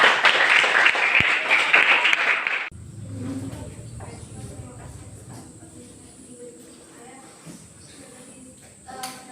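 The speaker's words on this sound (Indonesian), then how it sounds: "kita berikan tepuk tangan" Classroom applause from students in a school lesson, a dense burst of clapping that fills the first few seconds, then cuts off sharply into quieter room murmur and speech.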